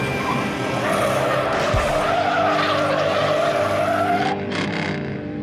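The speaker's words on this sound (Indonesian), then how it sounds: "Wow, ini mobil balap lagi teman-teman." Close, loud race car skid with a long rising tire squeal over engine roar, ending abruptly after a few seconds; no talk.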